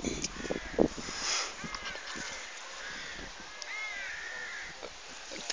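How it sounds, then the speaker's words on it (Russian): Crows cawing outdoors on a sunny day by a blooming beach, several harsh calls scattered across the stretch at moderate distance, fairly faint over soft ambient noise. "Вороны каркают."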